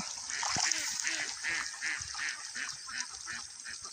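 Domestic ducks in a rice paddy quack in a dense, overlapping flock chorus, loud and continuous throughout, with faint splashing in the background.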